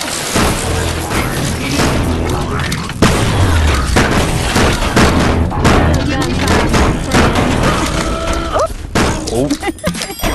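Gunshots in the Rec Room video game, a dense run of booming shots and thuds over constant game noise and background voices throughout.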